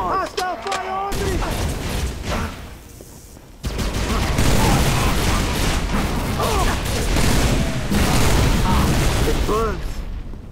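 Gunfire and explosions in a firefight in Halo Reach, played on Legendary with the Mythic Overhaul mod: dense, loud combat noise with a dip midway, then sustained blasts and rattling fire, while a voice calls out over it.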